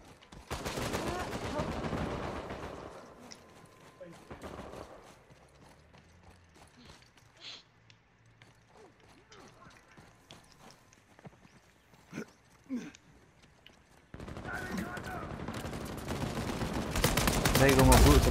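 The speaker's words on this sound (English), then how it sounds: "Lay down suppressive fire." Suppressive gunfire in Uncharted 4: bursts of rapid shots and loud fire at the start and end, with scattered quieter shots, clanks and footsteps in between amid game ambience.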